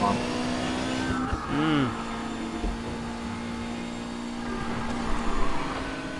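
A Porsche racing in Need For Speed Payback holds a steady engine drone, broken by a brief rising rev surge early on and a louder push near the end.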